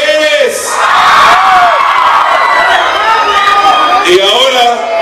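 A crowd at a show ballet performance in San Mateo Otzacatipan cheers and whoops loudly, with shrill shouted voices and cries rising over a noisy background, while an announcer's amplified voice speaks over it.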